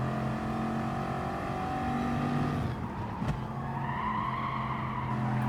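Race car spinning out in GT Sport during an all-Bugatti Veyron race at Lago Maggiore, steady loud engine drone with tyre skid and a brief sharp knock midway, no speech.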